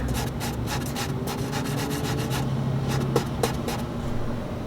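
Damaged carbon fibre is sanded by hand before resin goes on, a steady close scratchy rubbing in quick repeated strokes with no talking.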